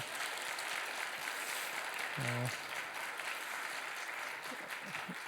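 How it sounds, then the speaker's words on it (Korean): A church congregation at a Sunday young adults' worship service applauds in a fairly faint, steady wash of clapping, with a brief voice rising midway and another near the end. "사랑하는 청년들에게 한 번 더 격려의 박수 해주시면 감사하겠습니다"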